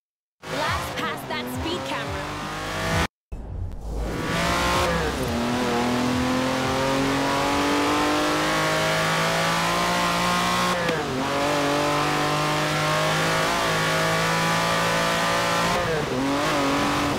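A 1987 Lamborghini Countach racing in a video game revs hard and loud, its engine pitch climbing through repeated gear changes with brief cutoffs, and tires squeal now and then.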